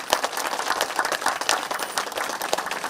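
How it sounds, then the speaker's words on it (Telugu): Audience applauding for Brahmarshi Subhash Badri at a vegetarian rally gathering, with dense, steady clapping from a crowd filling the whole stretch and no talk over it. "మన గురువు గారు బ్రహ్మర్షి సుభాష్ బద్రి గారికి ఒకసారి గట్టిగా క్లాప్స్ కొద్దాం"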